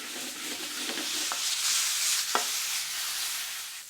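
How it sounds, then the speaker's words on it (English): Chopped garlic and green chili sizzle in a hot pan while being stirred, a steady close frying hiss with a few sharp scrapes of the utensil against the pan. "Next, add the green chili to the pan and mix the ingredients together."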